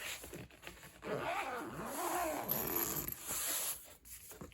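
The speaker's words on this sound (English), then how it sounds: "And then we can just fold everything up and zip it." A zipper is pulled closed along a solar panel carrying bag, with several rasping zip strokes of rising and falling pitch, close and fairly quiet.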